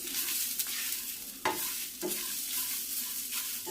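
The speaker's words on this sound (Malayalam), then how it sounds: "ചെറിയ തീയിൽ ഇങ്ങനെ ഇളക്കി ഇളക്കി മിക്സ് ചെയ്ത്" Coconut masala roasts over a low flame in a pan while being stirred, giving soft sizzling and scraping with a few sharper spoon knocks, close and quiet.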